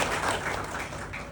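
A short burst of audience clapping for brigadiers at a gathering, dense and fairly loud, fading slightly over just over a second.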